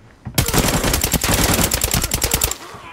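Rapid automatic AKM rifle fire in the shooter game Arena Breakout, a loud, close burst of evenly spaced shots lasting about two seconds after a brief quiet lead-in, with no talking.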